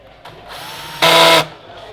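A power driver drives a screw into a Sonance soundbar grille, giving a short, loud, high whir that lasts under half a second, with a quieter mechanical hum before it.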